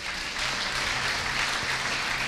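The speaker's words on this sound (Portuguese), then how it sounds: "Te aplaudimos, Senhor Jesus." A congregation applauds during a Portuguese-language Sunday evangelical church service, a dense, even wash of many hands clapping that holds steady throughout.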